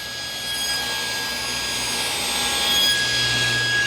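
A table saw hums steadily while it cuts wood for a sacrificial fence, a continuous close whine with tonal lines that rises slightly toward the end.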